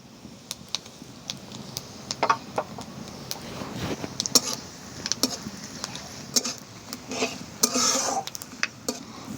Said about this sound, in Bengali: কড়াটা গরম হয়ে গেছে, আমি দিয়ে দিচ্ছি পাঁচফোড়ন, তেজপাতা, শুকনো লঙ্কা